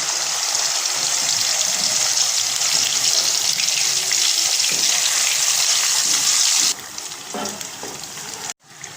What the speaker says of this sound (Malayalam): വെളിച്ചെണ്ണ ചൂടായി വന്നിട്ടുണ്ട്. അതിലേക്ക് നമുക്ക് ചെമ്മീൻ ഇട്ട് കൊടുക്കാം.